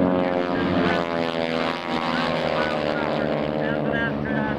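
A Goodyear Corsair racing plane roars past at an air racing demonstration during an airshow, its loud droning propeller engine steady and close, with an announcer talking over it.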